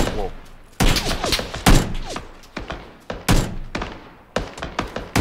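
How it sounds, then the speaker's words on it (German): Gunfire in the video game PUBG, a string of sharp, loud shots and thuddy impacts arriving in irregular bursts over several seconds, with player voices talking between them. "Wir werden beschossen von woanders."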